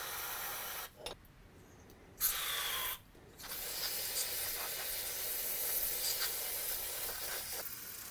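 Carb cleaner sprayed through the plastic pickup tube of a 1988 lawn mower carburetor, heard as steady hissing bursts broken by a couple of short pauses, close and moderately loud.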